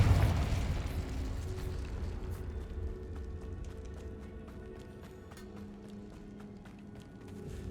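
In the video game Hogwarts Legacy, a Confringo blasting spell goes off as a deep, loud boom that decays into a rumbling tail, with scattered crackles and debris clicks lingering afterward.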